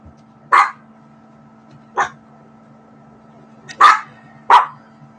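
A puppy barks four times, short sharp yaps spaced a second or more apart, close and clear over a faint steady hum.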